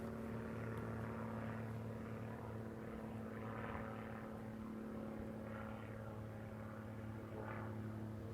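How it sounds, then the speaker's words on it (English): A propeller-driven airplane drones steadily overhead near Gallipolis, Ohio, a continuous engine hum with steady tones and a broad rumble that holds at even loudness for the whole stretch, with no talk. "That airplane."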